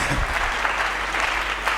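Church congregation applauding the Lord during a Sunday sermon, a dense steady clapping wash that stays loud and continuous throughout.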